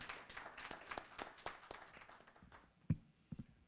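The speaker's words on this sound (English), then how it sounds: "A round of applause for Mr." Modest audience applause at a community gathering, made up of scattered individual claps that thin out, with one sharp thump near the end.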